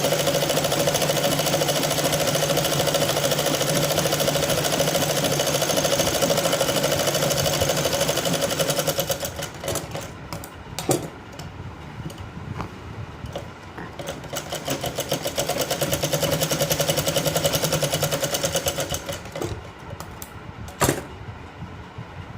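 A sewing machine stitching a night dress shirt, running in a steady, loud, rapid whir for a stretch, then slowing into uneven bursts and pauses with a few sharp clicks, close by and with no talk.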